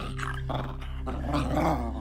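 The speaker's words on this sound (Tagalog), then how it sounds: "Nahintakutan ako sa lakas ng kalabog, lalo pa nang marinig ko ang galit na pag-angil ng aso." A large dog growls angrily in a low, continuous rumble, close and loud throughout, a menacing sound suited to a horror story.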